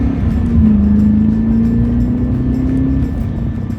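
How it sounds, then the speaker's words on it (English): C4 Corvette with Magnaflow mufflers, its exhaust droning steadily and loud through a low rumble that rises slightly in pitch, a continuous close engine note driven hard on canyon roads. "I did love the sound of this exhaust."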